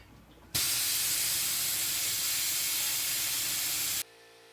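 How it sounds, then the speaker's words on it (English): A small air compressor feeding a tiny sandblaster gives a loud, steady broadband hiss of blasting air for about three and a half seconds, starting and stopping abruptly against a quiet background. "for a little air compressor and a little itty bitty sandblaster, it's not going to do it very fast"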